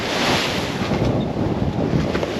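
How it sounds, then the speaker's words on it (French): Strong wind roaring across the microphone with waves washing and surging at sea, a steady dense rush throughout. "Le vent monte, les vagues montent."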